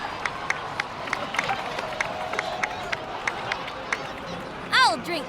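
Crowd of characters in Genshin Impact, clapping and cheering in a busy, steady spread of claps with a murmur of voices, ending in a brief bright burst of chime-like game sounds.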